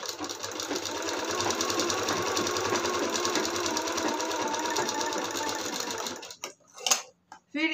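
A sewing machine stitches a long-sleeve blouse in a fast, continuous buzzing run up close, then stops near the end, where a few short bursts and a voice follow.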